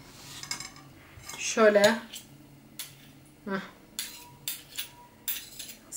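A metal spoon clinks and scrapes against a bowl or pot while store-bought tomato paste is spooned in, giving several sharp, close taps and a brief louder scraping clatter, with someone speaking softly between them.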